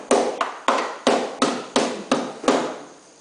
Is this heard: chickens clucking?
no